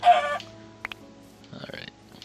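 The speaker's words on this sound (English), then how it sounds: "No, that's a chicken." A Minecraft chicken clucks in short, throaty bursts, a few scattered clucks close by against a quiet game background.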